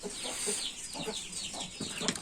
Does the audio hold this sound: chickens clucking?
yes